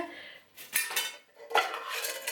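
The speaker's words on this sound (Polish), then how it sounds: "Kubeczek, i sztućce." Plastic camping cutlery and a plastic cup rattle and clatter as they are handled, in close, fairly loud bursts of clinking with short pauses between them and no speech.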